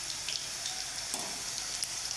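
Pakoras deep-frying in hot oil, a steady bright sizzle with crackling bubbles and occasional louder pops, close and continuous with no voices.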